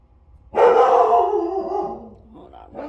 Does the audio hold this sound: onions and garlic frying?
no